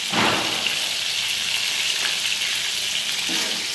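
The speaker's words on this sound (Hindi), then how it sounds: "बाकी ये फ्राई हो रहे हैं।" Mutton koftas frying in hot oil, a steady close sizzle and crackle that holds even throughout with no talking.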